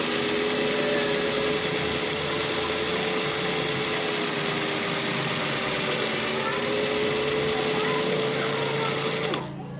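A power polishing tool works a stainless steel watch body with a continuous high, whirring motor hum and a slight shift in pitch midway, stopping abruptly just before the end.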